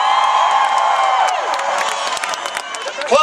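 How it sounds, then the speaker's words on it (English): A fired-up hometown crowd at a political rally in Chicago cheers loudly, a dense roar of whoops and shouts with scattered clapping that holds steady and swells again at the end. "With a hometown crowd that is fired up"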